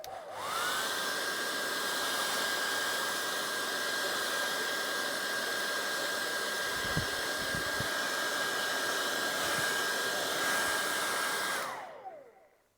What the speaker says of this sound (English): Let's just dry that once more.